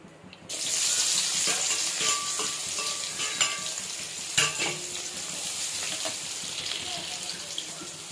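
Green chillies and onions frying in oil for chicken egg noodles, a loud steady sizzle that begins abruptly and continues close, with scattered spoon scrapes and knocks against the pan.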